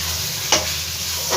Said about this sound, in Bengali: মশলার সঙ্গে ডালটাকে একটু কষিয়ে নেব।